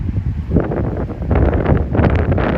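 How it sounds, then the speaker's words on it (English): Strong wind at Marias Pass, 5,500 feet, in Montana, buffets the microphone in loud, rumbling gusts that rise and fall continuously. "Of course, it's windy."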